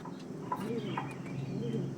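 Pigeons, among them a quality male with deep purple feet, give soft rising-and-falling coos twice in quick succession, close by, over a low hum of other birds.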